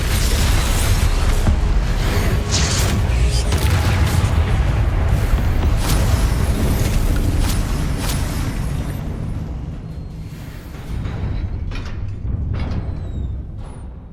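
Confringo explosive spell blasts in Hogwarts Legacy, giving a dense, loud roar of booms and crackling bursts that holds for several seconds, then thins into scattered pops and lighter crackles.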